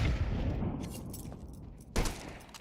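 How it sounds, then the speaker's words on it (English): Frag grenades detonating in a lower tunnel during a competitive Counter-Strike-style pro league match: a dense rumble of blasts and gunfire, with a sharp, loud burst near the end. "Nice frag grenades on lower tunnels"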